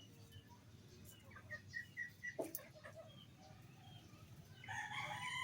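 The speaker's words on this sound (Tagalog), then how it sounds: "May tlaok pa ng manok" A rooster crows a few times amid steady rain in rural Cagayan, the calls moderately near, with clucking and other bird sounds and a louder burst of fowl noise toward the end.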